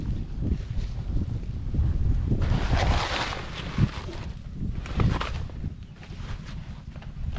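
Gusty wind roars against the microphone in a field by a hut, swelling and easing over several seconds, with occasional soft thumps and no talking.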